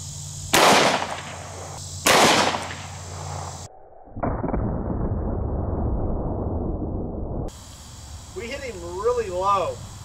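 Glock 20 pistol in 10mm firing 180-grain jacketed hollow points outdoors, two loud sharp gunshots with ringing tails, then a cut to a sustained rushing noise and warbling insect-like chirps.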